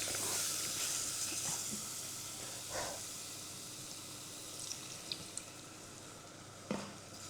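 Cold milk poured little by little into a pan while stirring: a steady hiss and sizzle with a few faint scraping clicks, fairly quiet and continuous.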